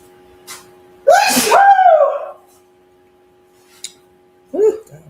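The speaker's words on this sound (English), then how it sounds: "The seasoning make you sneeze" A single loud sneeze set off by cooking seasoning bursts out, followed by a short quiet pause, a faint click, and a brief vocal sound at the end.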